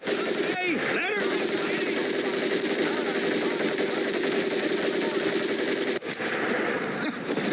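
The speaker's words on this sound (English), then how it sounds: "The M19A4. Will fire the weapon." An M19A4 machine gun fires in Medal of Honor: Pacific Assault. It is a loud, sustained burst of rapid automatic fire that runs almost the whole time, with a short break near the end and game voices mixed in.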